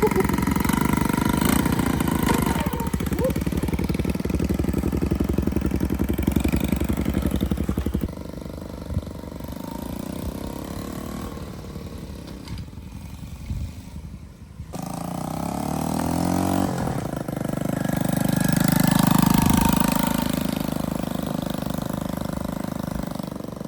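A Honda Dax motorcycle engine, about 20 years old and newly restored, running steadily at a close idle with a continuous low drone, a brief dip in the middle, then a rise as it revs up again.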